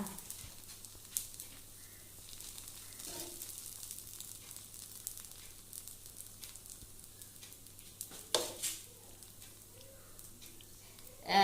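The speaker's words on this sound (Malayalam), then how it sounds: "നമ്മുടെ മാവ് ദോശയുടെ മാവൊക്കെ ഒന്ന് വെന്ത് വരട്ടെ" Dosa batter spread thin on a pan over a low flame gives a faint, steady sizzle, with a few soft clinks and scrapes now and then.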